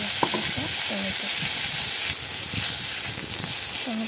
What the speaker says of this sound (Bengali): টমেটোটা পেঁয়াজের সাথে হালকা করে ভেজে নেব।